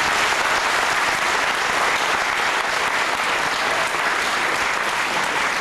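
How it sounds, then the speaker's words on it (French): A large audience at a book presentation gives loud, sustained applause, a dense continuous roar of clapping that fills the whole stretch without pause or voices. "Maman Jeannette, qu'on applaudit très très fort."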